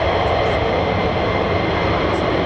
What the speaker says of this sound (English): I can hear an F-35 taxiing around